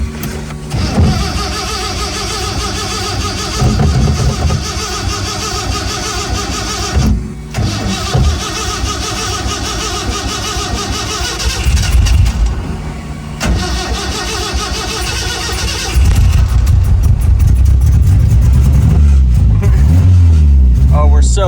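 A turbocharged Chevy LUV pickup engine cranks and fires, settling into a loud, steady idle up close, then rising to a heavier, rougher rumble near the end; voices talk briefly over it.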